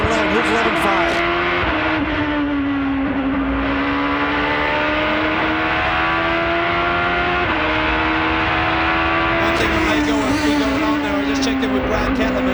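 A Porsche sports prototype racing at Laguna Seca in an American Le Mans broadcast, its engine screaming at high RPM as a loud, sustained, steady-pitched whine with brief shift dips, under continuous commentary.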